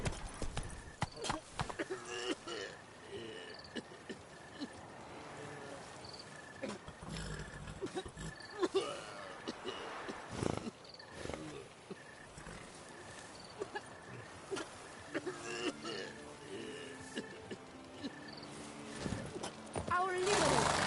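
Roach the horse gallops in The Witcher 3, a steady clip-clop of hooves running through the whole stretch alongside game music and other effects, with voices talking over it.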